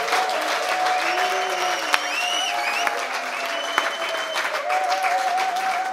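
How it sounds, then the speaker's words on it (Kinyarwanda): An audience at a religious gathering claps for God, a loud, dense and sustained round of applause close by, with faint voices under it. "Wakomeye Imana amashyi."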